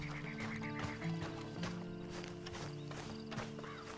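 Horse hooves clip-clopping in an even rhythm in Red Dead Redemption 2 Online, close and fairly quiet, with a low droning background underneath.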